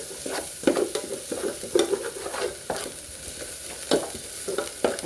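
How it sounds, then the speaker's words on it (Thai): Red curry paste stir-fried in a pan, a soft steady sizzle under repeated scraping strokes of a spatula at an uneven rhythm, close up with no voices. "นี่ค่ะผัดพริกแกงให้หอมนะคะ"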